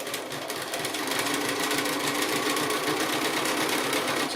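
A sewing machine runs a straight stitch through double-layered fabric leaves backed with fusible web, giving a steady, fast mechanical whirr with a rapid even needle rhythm, close up and uninterrupted throughout.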